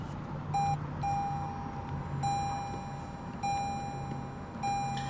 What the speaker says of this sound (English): just put your foot on the brake and hit the button to start.